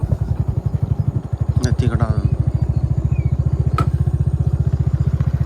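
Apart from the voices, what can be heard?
motorcycle engine running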